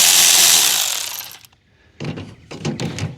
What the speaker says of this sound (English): a 5/16 socket will loosen this clamp right here